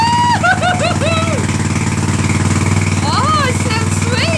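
A Suzuki SR250 motorcycle single-cylinder engine runs with a loud, steady, thumping idle, while voices talk excitedly over it.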